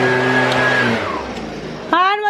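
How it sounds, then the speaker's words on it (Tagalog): A yard leaf blower drones steadily and loudly at close range, its tone dipping as it winds down before a voice briefly cuts in at the end. "Dito si Jan, nagbo-blower na siya, oh."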